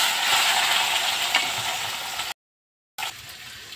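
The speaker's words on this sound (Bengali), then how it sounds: "তো এখানে আমি আলুগুলো ভেজে নিচ্ছি।" Potatoes fry in oil in a wok, a continuous bright sizzle with small clinks that cuts out briefly near the end and then resumes, with no talking.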